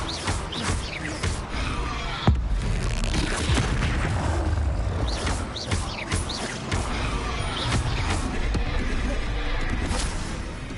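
Spell effects and booming magical blasts from the Hogwarts Legacy game, including the Incendio fire spell, a dense, loud wash of crashes and bursts running continuously with no pause.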